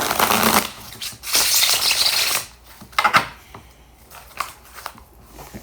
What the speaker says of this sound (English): I feel the need to shuffle some more